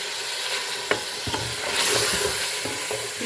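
Aloo gosht, meat and potatoes, sizzling steadily in a pot while a spoon stirs and scrapes through it, with a few sharp knocks against the metal close up.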